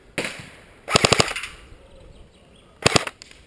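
Airsoft guns fire during an indoor close-quarters battle game in Germany, with several sharp rapid bursts of mechanical shots echoing in a hard room, separated by brief pauses.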